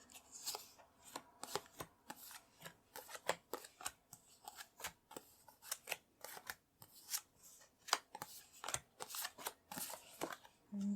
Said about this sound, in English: I'm going to place the cards down.